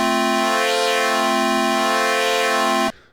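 A steady, bright buzzy Korg Minilogue synthesizer tone with modulated oscillator wave shape drones for about three seconds with its timbre subtly shifting, then cuts off abruptly.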